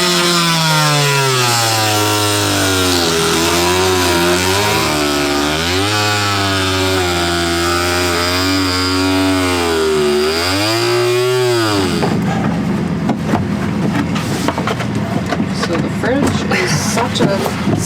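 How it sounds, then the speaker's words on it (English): A Dremel rotary tool cuts off handles on board a blue water sailing boat. It runs loud and close, its whine rising and falling in pitch under load, then gives way to rougher grinding and scraping. "So I'm just cutting them off with dremel."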